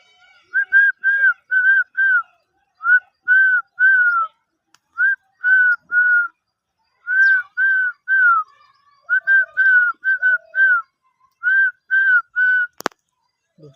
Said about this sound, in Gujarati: હું જ્યારે સીટી વગાડું ને તો એ લોકો આવી જાય